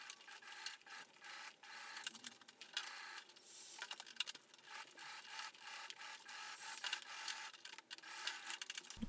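A sewing machine topstitches a homemade Cyrus backpack, giving a quiet, continuous mechanical rasping chatter with a steady rapid rhythm, alone and close.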